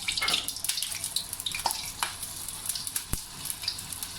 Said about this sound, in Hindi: चिकन के सारे आपने कम पीस डाल के इनको फ्राई करना है ताकि अच्छी तरह से सारा चिकन फ्राई हो जाए।